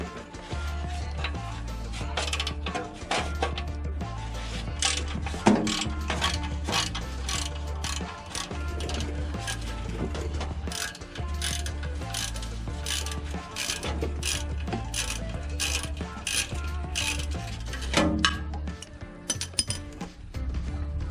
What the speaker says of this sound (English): First things first, loosen up this 13mm bolt.